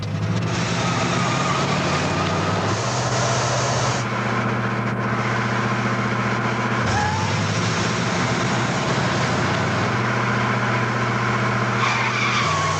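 A car accelerating hard at high speed, with a loud sustained engine roar and tire squeal. The engine shifts pitch as it skids, steady and close throughout with no talk.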